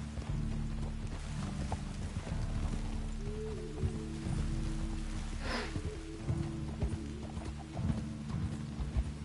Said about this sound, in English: Sitting here on a horse, traveling around a big mountain, doing nothing.